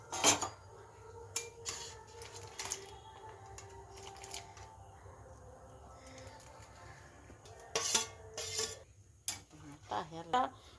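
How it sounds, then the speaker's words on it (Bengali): Fried vegetables and cabbage tipped from a dish into a cooking pot over dal, with close metal clatters and scrapes of utensils, a few sharp knocks at the start and a busier burst of clinks near the end. "তো আমার ভেজে রাখা সবজি আর বাঁধাকপি একসঙ্গে আমি ঢেলে দিচ্ছি।"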